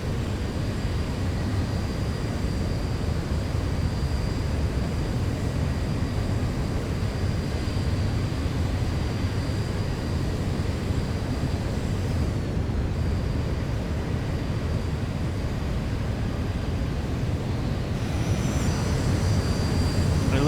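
Boeing 737-900ER jet engines in a flight simulator, a steady loud broadband roar with a faint high whine, holding constant throughout as on a takeoff run.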